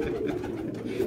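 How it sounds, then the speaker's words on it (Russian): Pigeons of mixed breeds coo steadily in a loft, a continuous low burbling murmur of several birds close by. "Голуби разные."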